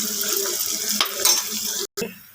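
Curry ingredients with onion being stirred in a hot pan as turmeric goes in, a close crackling sizzle with spoon scrapes that cuts off abruptly near the end.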